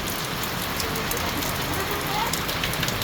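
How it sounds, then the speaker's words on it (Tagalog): Heavy rain pours down in a dense, constant hiss during a storm at a collapsed bridge, loud and steady with no gaps. "Ito yung ano, lakas, maulan pa rin, oh."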